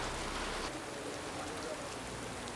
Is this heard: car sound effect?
no